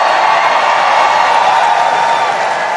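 A large rally crowd roars with sustained applause and cheering, a loud, steady wash of clapping and voices that does not let up throughout.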